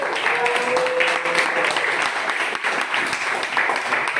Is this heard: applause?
yes